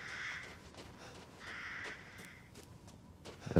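Crows caw in the survival horror video game Resident Evil Village, several harsh, raspy calls spread across a few seconds at moderate distance over a quiet, hissy ambient backdrop.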